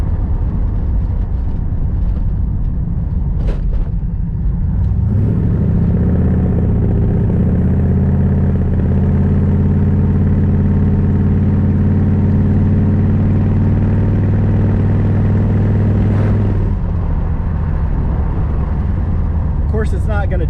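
A 1982 Camaro engine turns over and catches about five seconds in, then idles with a steady low rumble for roughly eleven seconds before shutting off, with brief clatter near the start and end.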